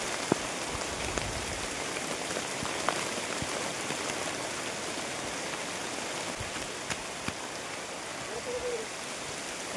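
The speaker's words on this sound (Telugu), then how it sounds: "వర్షం బాగా గట్టిగా పడుతుంది." Heavy rain falling on a hill forest around a tribal village, a dense, even hiss of drops across the whole stretch with a few sharper nearby patters, no talk.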